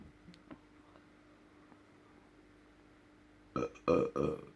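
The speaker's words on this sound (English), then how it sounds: "Oh, we've got the burps." After a few seconds of near quiet with faint ticks, three loud, close burps come in quick succession.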